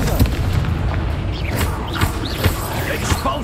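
Confringo fire-blast spells cast in Hogwarts Legacy on PS5, heard as a run of booming bursts with rumbling low impacts and whooshing, sparkling tails, loud and close over a dense, continuous bed of battle noise.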